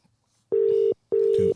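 Two steady telephone tones, each about half a second long with a short gap between them, are heard while a call is placed to a guest on a Muay Thai podcast. A faint extra tone enters near the end.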